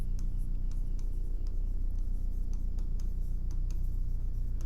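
Pen strokes scratching on paper while a maths equation is written out, a steady run of short, light scrapes and taps against a low constant background hum, with no voices.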